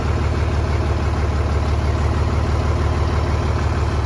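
A six-cylinder Deutz-Fahr Agrostar 6.11 tractor idles steadily up close, its diesel engine giving a constant low, even rumble with no speech.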